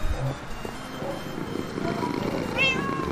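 Several cats meow in Minecraft, thin tonal cries rising over a dense noisy game background, with one clearer meow near the end.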